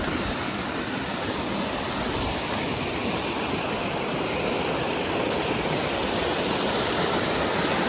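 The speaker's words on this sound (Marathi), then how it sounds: "झऱ्याचं पाणी इकडं आहे" Spring water runs continuously at a forest spring near a rural homestead, a dense, even rushing hiss that stays close and steady throughout with no voices.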